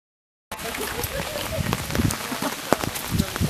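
Rain falls steadily on a misty, cold mountain walk, a dense close patter that starts abruptly after a brief silence, with scattered louder drops and a faint voice underneath.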